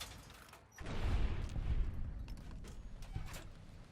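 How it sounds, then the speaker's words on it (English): A missile launcher fires in Fallout New Vegas, a sudden loud blast at under a second followed by a rumbling explosion that decays slowly over a few seconds, with no talking. "I could snipe this guy, but I have a missile launcher."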